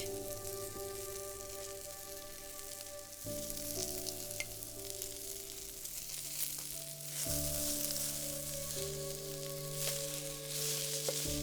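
Mushrooms with onions and garlic sizzle steadily in a hot pan, a continuous close frying hiss with faint stirring, no voices over it.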